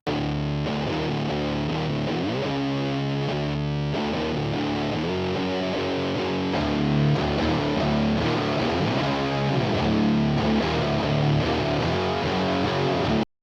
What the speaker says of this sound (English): listen to the breakdown part with just the Black Russian and the Boss distortion